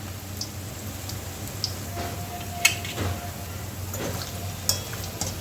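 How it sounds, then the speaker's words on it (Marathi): Crispy onion pakoda (kanda bhaji) deep-frying in a pan of hot oil, giving a steady close sizzle with occasional small pops and crackles and no talking. "आता याला छान तांबूस कलर येतपर्यंत तळून घ्यायचे आहे"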